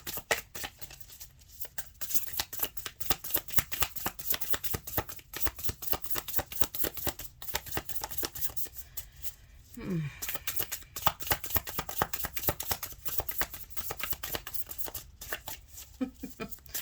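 Tarot cards being shuffled by hand, a steady run of soft riffling and flicking clicks that continues throughout at close range, with brief pauses and a faint voice in the background.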